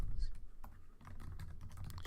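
Typing on a computer keyboard while writing Java code: quick, soft, irregular key clicks close by, fairly faint over a low room hum.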